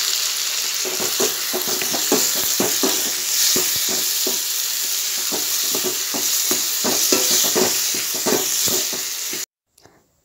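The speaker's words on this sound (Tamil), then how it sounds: "நம்ம மூணு தக்காளி கட் பண்ணி எடுத்து வச்சுருக்கோம், அதை ஆட் பண்ணிக்கலாம். இதை நல்லா வதக்கி விட்டுக்கலாம்" Chopped tomatoes sautéing with onions in a pan crackle and sizzle continuously while a spoon scrapes and taps in a quick irregular rhythm, close and loud, then stop abruptly near the end; no talking.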